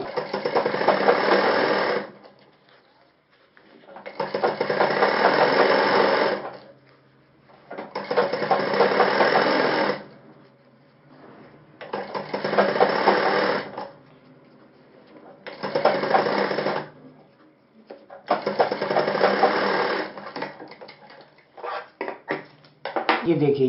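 A sewing machine stitching a shirt collar runs in six close, steady bursts of rapid mechanical chattering, each lasting a few seconds and separated by short pauses where the machine stops.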